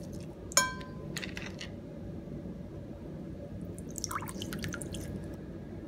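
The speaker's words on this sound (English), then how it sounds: "Oranges have been squeezed into the 1 cup of soy sauce and 1 cup of water." Fresh orange juice drips into a bowl of soy sauce and water, with one distinct close drip and a few faint scattered drips over a low steady background hum.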